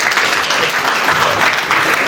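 Wedding guests at a Nigerian-British wedding break into loud, continuous applause after a speech, a dense wash of many hands clapping close by and steady throughout.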